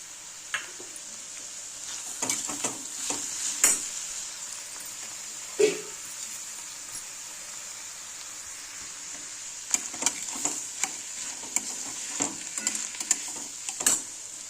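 Chopped garlic and ginger frying in a pan for Mumbai street-style masala pav, a low steady sizzle broken by sharp scraping and clinking stirs, close by and irregular.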